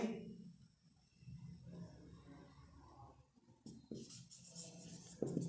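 Chalk or marker scratching on a board during a maths lesson on area and percentages, with several short strokes and taps of writing close by against a quiet room.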